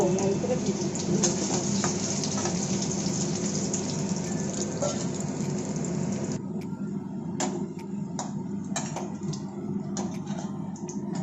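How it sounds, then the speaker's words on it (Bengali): Eggplant (brinjal) pieces fry in hot oil in a home kitchen, giving a steady, dense sizzle close by. Partway through the sizzle drops and thins, leaving scattered pops and crackles. "বেগুনগুলো সব লাল করে ভেজে নেবে, তাই তো?"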